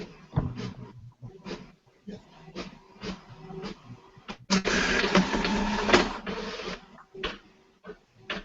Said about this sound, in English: you have a slow printer